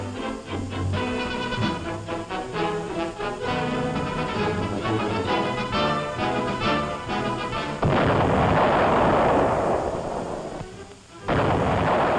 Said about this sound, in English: Second salvo, 200 yards short. Third salvo, on target.